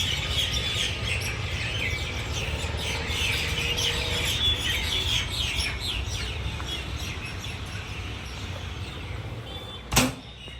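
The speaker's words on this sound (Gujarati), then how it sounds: "પક્ષીઓના કલરવ જો તમે" Birds chirp steadily through an evening scene, a dense layer of high, fairly distant calls over a constant low rumble, with one short sharp knock near the end.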